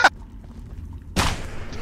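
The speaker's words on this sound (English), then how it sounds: "he's shooting at me!" Enemy gunfire in a video game about hunting a demon train: a short, sharp blast at the start, then a longer, heavier burst of shots a little over a second later, with quiet ambience in between.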